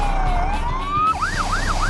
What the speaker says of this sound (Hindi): सायरन की आवाज सन्नाटे को चीर रही है